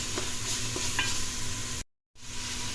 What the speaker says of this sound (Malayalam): അതിൻ്റെ കൂടെ തന്നെ നമുക്ക് കുറച്ച് ഉപ്പിട്ട് കൊടുക്കാം പെട്ടെന്ന് ഉള്ളി വഴക്കി കിട്ടാൻ വേണ്ടിയിട്ടാണ്